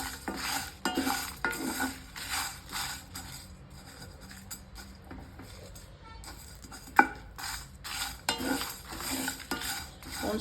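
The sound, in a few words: dry-roasting black pepper and cumin in a pan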